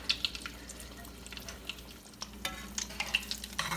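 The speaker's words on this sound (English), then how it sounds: "ball of onions frying in my oil for flavor" Onions frying in oil, a steady close sizzle with light crackles and small pops throughout, no voices.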